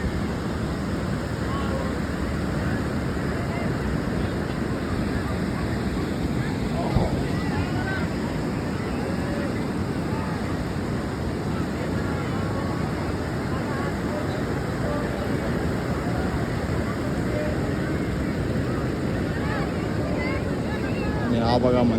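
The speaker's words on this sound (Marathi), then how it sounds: "हा बघा समुद्र किनारा गणपतीपुळेचा." Sea waves wash steadily onto crowded Ganpatipule beach in a continuous broadband roar, blended with strong wind buffeting the microphone throughout.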